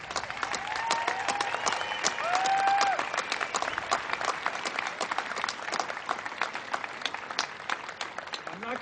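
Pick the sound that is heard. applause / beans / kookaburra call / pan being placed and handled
applause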